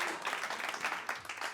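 Sparse clapping at a comedy club on a Friday night, a few uneven claps from a small audience, soft and thin with no talking over them.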